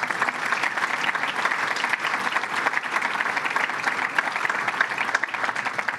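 An audience at a fire department event gives legislators a round of applause, a dense, even stretch of many hands clapping at steady strength throughout.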